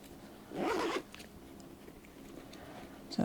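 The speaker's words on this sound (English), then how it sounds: "the centre section also zips across" A zipper is pulled across the centre section of an Oroton bag, a single close, scratchy half-second zip, followed by quiet handling.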